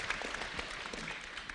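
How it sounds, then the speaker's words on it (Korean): An audience at a Seoul social economy ideas contest applauds an introduced guest, a soft, steady patter of many hands heard at a distance, even and unbroken. "박수 부탁드리겠습니다"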